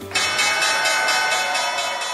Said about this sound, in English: 6:35 makes it time for the opening bell report.